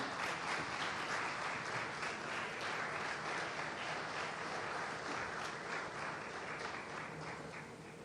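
Sustained applause from an audience at an India News ceremony honouring Gujarat Police, steady and dense throughout, fading slightly toward the end.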